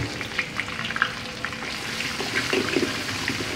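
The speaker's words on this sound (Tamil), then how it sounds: "Minyak dah panas, kita masukkan herba." Ginger and herbs sizzle in hot oil in a pan at the start of a fish curry, a close, steady frying crackle with small pops throughout.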